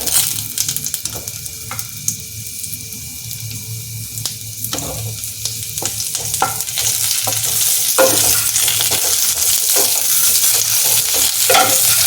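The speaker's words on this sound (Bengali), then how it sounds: "এখন আমি পেঁপে আর আলুটা ভেজে নেব এই তেলের মধ্যে।" Papaya and potato pieces fry in oil left from frying pangas fish for a Bengali fish curry, a loud continuous sizzle that builds in intensity, broken by the scrape and clatter of stirring in the pan.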